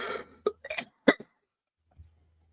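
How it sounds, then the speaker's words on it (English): A few short, sharp coughs close up, in a quick irregular cluster, then quiet with a faint low hum. "Still trying to get rid of this cough and cold."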